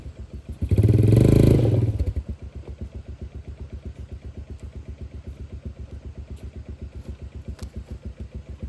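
A four-wheeler engine revs hard for about a second while pulling a pole upright, then settles into a steady, loud, close thumping idle.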